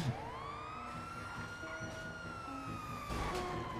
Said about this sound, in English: we have the lights and sirens